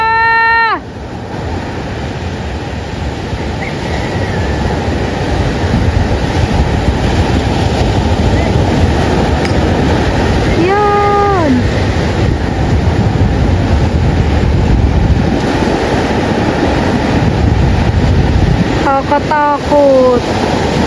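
Large waves surge in a constant heavy roar, loud and close, broken by a few short horn-like tonal blasts near the start and again around the middle and end.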